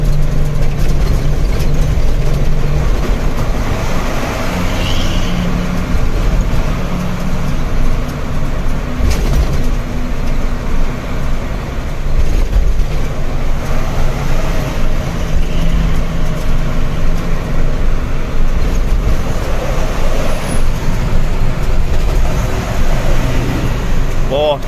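A heavy truck hauling a 12.5-ton load labors up a hill on the Semarang toll road in low gear, its engine droning loud and steady throughout with constant road rumble.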